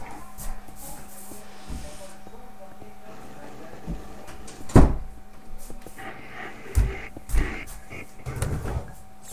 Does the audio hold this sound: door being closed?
yes